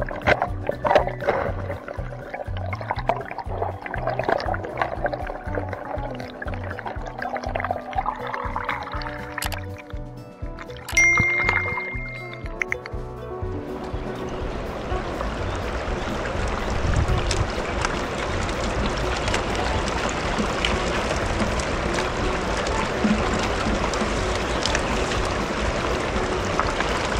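Water rushes through a 3D printed Goldibox gold dredge, first with irregular knocks and sloshing, then turning into a loud continuous gushing flow outdoors with some wind noise.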